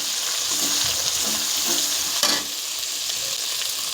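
Ginger and spices fry in hot oil with a bright, dense sizzle, near and fairly loud, stirred several times, and the hiss eases slightly toward the end; nobody speaks.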